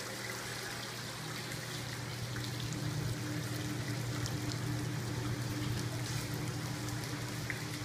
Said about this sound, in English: I don't think that they would really like to have this noise of falling water like this all the time.